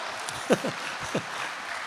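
Light applause from an audience at an Indonesian comedy roast event, a soft wash of clapping with a few brief voices rising over it.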